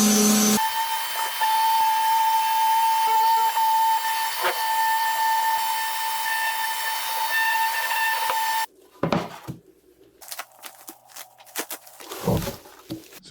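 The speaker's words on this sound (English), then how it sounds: "I'm going to go ahead and sand everything down" Power sander working over a wooden coffee table frame, a steady high whining hiss for several seconds, then stopping and giving way to scattered knocks and handling noises nearby.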